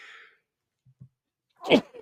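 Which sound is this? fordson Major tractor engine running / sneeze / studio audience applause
sneeze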